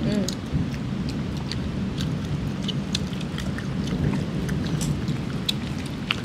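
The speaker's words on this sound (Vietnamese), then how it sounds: "Tại ngoài mưa lâm râm chứ cũng mưa lớn" Steady rain patters outside with scattered drips striking surfaces, a constant wash of noise at moderate level and a faint voice early on.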